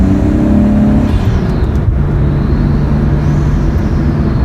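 A Nissan Skyline R32 pulls hard under full acceleration, its engine note loud and close with a strong, steady harmonic roar that rises and holds through the run, no voices over it.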